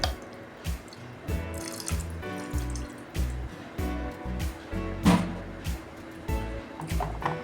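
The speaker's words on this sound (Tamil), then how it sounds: "லேசாக தண்ணி ஊற்றி அதை கழுவிக்கிறேன்." Water splashes and pours from a tap to rinse a clay pot in a home kitchen during idli and brinjal kadayal cooking, coming in uneven close bursts with dripping between them.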